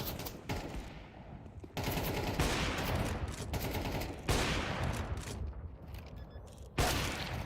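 Bursts of automatic gunfire from a Counter-Strike match at an IEM Krakow event, loud rapid volleys in several separate clusters with short gaps between them, no talk.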